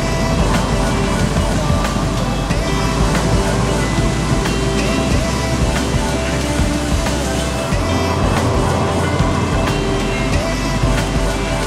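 Grokhotun waterfall in Kamenka village, Sverdlovsk region, a loud continuous rushing roar of falling water heard up close, dense and unbroken throughout.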